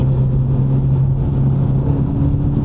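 Renault Megane RS hatchback engine droning steadily at an easy road pace, a low, even hum with a constant tone and no revving, close and fairly loud.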